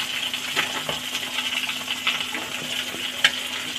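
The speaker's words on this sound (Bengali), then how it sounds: "মাছ ভাজা হচ্ছে, এটা মালাইকারি হবে" Prawns fry in hot oil for a malai curry, giving a steady soft crackling sizzle with scattered sharper pops, moderately quiet and close, with no talking.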